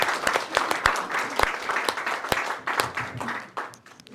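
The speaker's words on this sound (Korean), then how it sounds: "큰 박수가 부탁드립니다" A crowd at a Korean economic forum applauds steadily, many hands clapping at once in a dense, sustained patter that tapers slightly toward the end.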